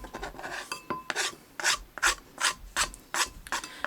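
Rinsed leaves being scraped from a surface into a bowl for a salt scrub, a series of short rasping strokes in an even rhythm, close and fairly quiet.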